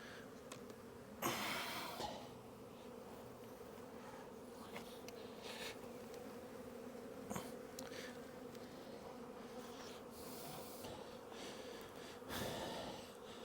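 A dense, steady drone of honey bees swarming around an open hive box during hive rearrangement, continuous and close, with a few louder bursts as bees pass near and occasional handling noises.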